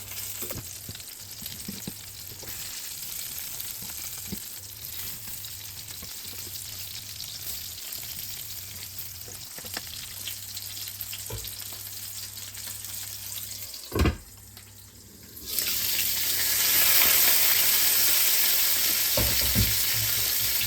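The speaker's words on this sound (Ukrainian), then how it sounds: "кожної сторони я обсмажую до готовності" Pork patties fry in a pan, a steady close sizzle with faint spatula taps for about fifteen seconds, broken by a thud and a brief hush, then a louder rush of running water.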